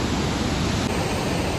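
Athabasca Falls pours into a narrow rock gorge, a steady, dense roar of crashing water that fills the whole short stretch without a break.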